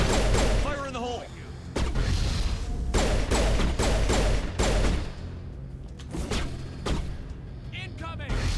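Mass Effect combat: a grenade blast and bursts of rapid gunfire, loud and heavy throughout, with booming hits and voices calling out over the shooting.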